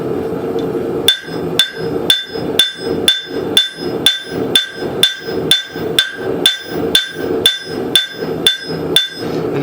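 A hammer rings against steel held on the edge of an anvil while forging a woodcraft tool, with about eighteen sharp, evenly spaced metallic strikes in a steady, loud rhythm close by.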